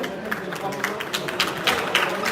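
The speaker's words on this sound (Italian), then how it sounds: "Salutiamoli con un bel applauso alla loro discesa dal ring e dal quadrato" A crowd claps at an amateur Olympic boxing event in Padova, Italy, as the boxers step down from the ring after the evening's first match: dense, steady applause with scattered sharper claps throughout.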